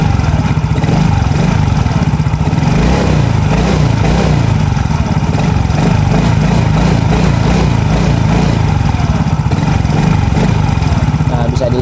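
A Yamaha Mio J scooter engine runs close by, its throttle opened a little into a smooth, even rev with no stutter or misfire, a loud continuous buzzing drone with a faint voice underneath.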